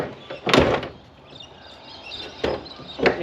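The back door of an ex-police Ford Falcon panel van is worked by hand, giving a loud clunk and rattle, a pause, then two more sharp knocks as it shuts.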